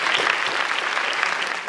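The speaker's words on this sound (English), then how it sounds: "A round of applause." Audience applause fills a quiz event hall at a school ICT society competition, steady sustained clapping from many hands, fairly loud and continuous throughout, with no talking over it.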